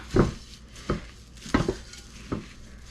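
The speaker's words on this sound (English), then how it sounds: "we're just going to mix this up as best we can, because we're mixing peanut butter here" A spoon or spatula clunks and scrapes against a bowl while peanut butter and birdseed are mixed, four or five distinct knocks spaced about half a second apart, close and fairly quiet.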